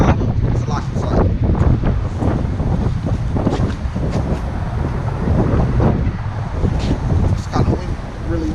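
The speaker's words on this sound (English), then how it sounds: "It's kind of windy, really windy today" Loud, constant wind buffeting the microphone outdoors on a very windy day, a heavy low rumble running throughout with voices talking underneath.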